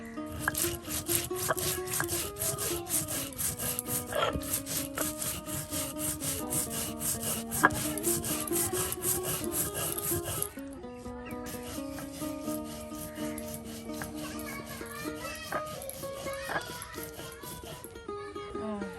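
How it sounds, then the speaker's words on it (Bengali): Coriander and cumin are ground together on a stone slab (pata) in a village kitchen, making close, continuous rough rubbing strokes in a steady back-and-forth rhythm throughout. "আর দেখুন ধনিয়া সস আর জিরা একসাথে আপনার এটাও কিন্তু পাটায় ফেসে নেওয়া হচ্ছে।"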